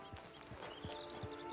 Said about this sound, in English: Get on the horse there.